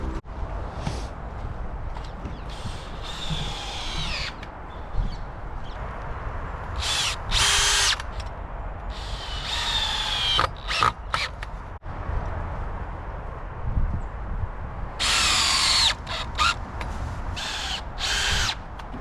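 Power tool cutting a board outdoors in the rain on an allotment plot, heard as several loud whining bursts of a few seconds each, separated by quieter stretches of steady rain and ambient noise, with no talking.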